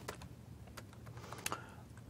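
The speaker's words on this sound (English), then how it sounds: "you see here how I can use the keyboard to just navigate the color picker." Light computer keyboard keystrokes used to move through a color picker, a handful of soft, scattered clicks at an uneven pace, faint and close in a quiet room.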